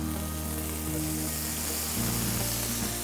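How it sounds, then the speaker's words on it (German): Entrecôte steaks sizzle loudly in a hot frying pan, a dense, steady hiss of frying fat close up that continues throughout with no talking. "Die wunderbaren Entrecôtes kommen jetzt in eine heisse Pfanne."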